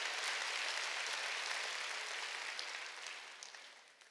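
Congregation at a Korean church worship service breaks into dense, sustained applause, a broad hiss of many hands clapping together that holds steady and then gradually thins out toward the end.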